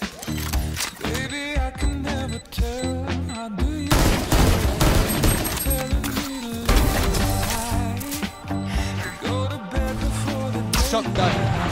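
Rapid bursts of shotgun and other gunfire in a Valorant round, loud and dense over a thumping music track, with crashes and impacts layered throughout.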